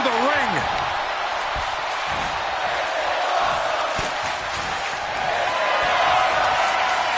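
A wrestling slam from the WWE 2K25 video game, an electric chair move, lands over a constant roaring arena crowd with cheering, while a commentator talks throughout.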